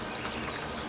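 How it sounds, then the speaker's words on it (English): Water drains out of an aquarium pipe in a steady, gushing trickle, close and continuous with no pauses. "We'll let the pipe drain out completely."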